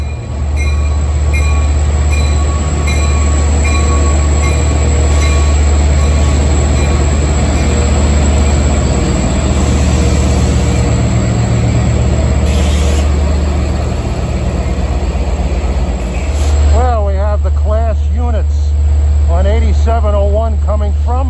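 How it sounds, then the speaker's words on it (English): A passenger train led by DE30AC locomotive 8706 rolls into a station with a heavy, steady low rumble of engine and wheels that continues throughout, and warbling whistles or squeals rising near the end. "8706 arriving track 8"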